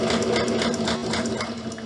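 A sewing machine runs steadily and close, its rapid rhythmic stitching and motor hum continuous as it sews fabric for a scrunchie.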